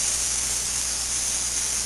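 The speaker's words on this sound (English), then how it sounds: "A little non-stick spray, and you're just going to lightly spray" Non-stick cooking spray hisses steadily from a can onto raw pork, a continuous bright, airy spray held close for a couple of seconds with no break or talk.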